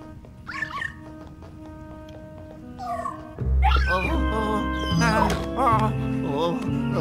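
Luigi's Mansion 3 video game audio with a dog barking, yipping and whimpering in short cartoonish bursts over eerie background music, growing louder and busier midway as the game's music swells.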